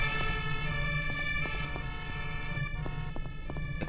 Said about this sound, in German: Jetzt kommt die Feuerwehr.